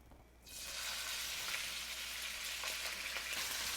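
Green pepper dropped into hot oil, a sudden loud sizzle bursting in after a quiet moment and holding as a steady close crackle and hiss.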